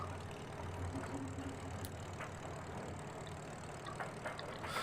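Older engine left ticking over at idle, a low, steady, fairly quiet rumble with faint knocking and occasional small clicks in the background.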